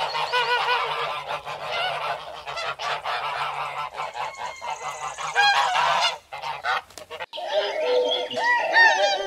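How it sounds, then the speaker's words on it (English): A goose honks over and over in loud, harsh calls that run almost without a break, with a short lull before the honking resumes. "Goose."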